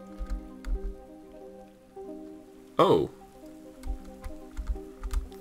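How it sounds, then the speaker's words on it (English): Soft patter of rain falls in the video game Floor is Jelly, faint drips and splashes scattered over a quiet background, with a brief spoken exclamation partway through. "Oh, it's raining."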